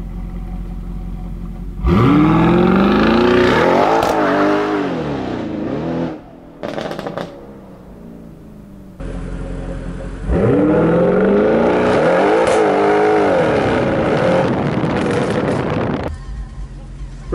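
Two cars roar past in turn, each engine rising loudly then fading, with a short quieter gap between them and some wind rumble.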